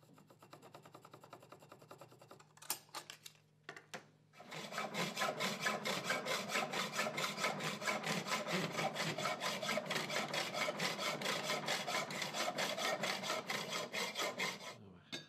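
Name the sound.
sawing small wooden sticks to size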